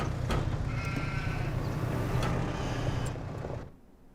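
Sheep bleat in Farming Simulator 25 over a steady low farm ambience, with a drawn-out wavering call in the middle and a few sharper sounds before the background drops away at the end.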